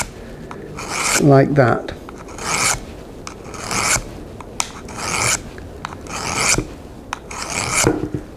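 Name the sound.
sharpening secateurs blade along the bevel, grinding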